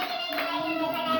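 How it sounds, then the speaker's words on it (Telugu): Schoolchildren in a classroom clap their hands together for a classmate, a brief burst of applause with children's voices mixed in. "క్లాప్స్ కొట్టండి ఆమెకి"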